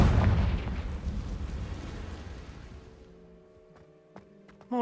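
A Confringo spell explosion in Hogwarts Legacy, a loud rumbling blast at the start that decays slowly into quiet ambience, ending with a faint tonal chime and a sudden final hit.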